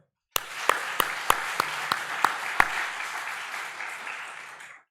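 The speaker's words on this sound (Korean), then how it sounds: "우리 영광의 박수." A church congregation applauds during a Sunday worship service, a dense wash of clapping that starts abruptly with a few sharp louder claps standing out, then fades away near the end.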